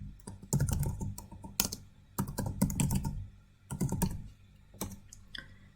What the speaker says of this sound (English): So I type required library here.